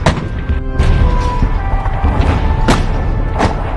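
Artillery cannon fire sound effect, a dense rumbling barrage of booms and thuds with several sharper cracking blasts, loud and continuous throughout.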